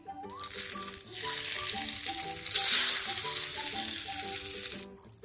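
Chillies dropped into hot oil for a North Indian-style dal tadka tempering produce a strong, sustained sizzle that swells midway, heard beneath melodic background music.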